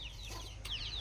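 Chickens cluck in a coop, a short faint burst of a few high clucks over a low background hum.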